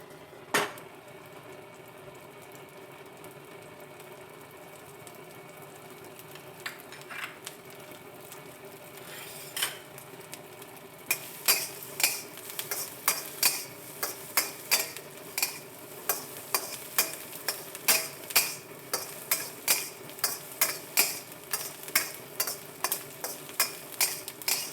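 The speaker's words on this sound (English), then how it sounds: "First, you're going to toss in your dried shrimp and cook it about 30 seconds." Dried shrimp are tossed and cooked in a wok for sticky rice with sausage, with a low background hiss and then a quickening run of sharp metal scrapes and clanks of a utensil against the pan.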